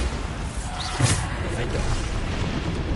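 A Bombarda spell goes off in Hogwarts Legacy, a single booming blast with a whooshing burst near the middle, set against a steady bed of game noise.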